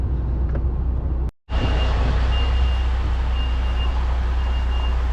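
Truck backing up with its reversing alarm, faint evenly spaced beeps over a steady loud engine and road rumble from inside the cab, after a brief dropout.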